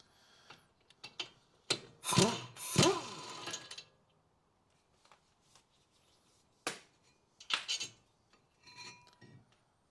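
Hand tools work loose the brake carrier bolts on a 2015 Toyota RAV4 2.2 diesel, giving scattered close metallic clicks and ratcheting bursts separated by quiet pauses.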